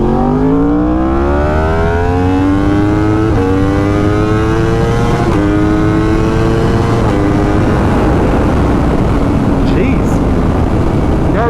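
A 2020 Yamaha R1 with a changed sprocket accelerates hard while being ridden, its loud, close engine note climbing through several gear shifts under heavy wind rush.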